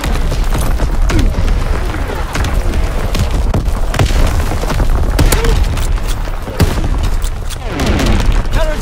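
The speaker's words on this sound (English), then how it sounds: "Incoming enemy artillery!" Enemy artillery shells pound the battlefield in Call of Duty: WWII, with heavy booming blasts mixed into steady rattling gunfire, loud and close throughout with dense rumbling low end.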